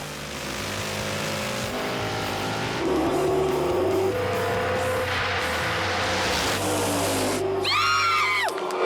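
Engines of a 1984 Pontiac Trans Am and a 1980 Chevrolet Camaro roar loudly through a drag race launch at Virginia Motorsports Park, with harmonic revving rising and shifting, then a sharp whooping tire chirp near the end.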